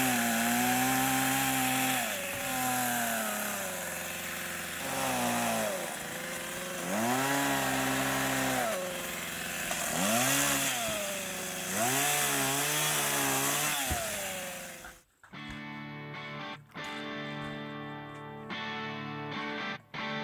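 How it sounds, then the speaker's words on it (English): A chainsaw cuts branches off a tree in early snowfall in Alaska, its loud engine rising and falling through repeated revving cuts for about fifteen seconds before stopping, leaving quieter intermittent clatter. "And I figure as I cut all the branches down, Zach can throw them in the sled."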